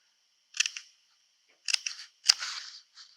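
Scissors trim paper for a quilt block card in three close, crisp bursts of snipping and slicing, separated by short pauses of silence.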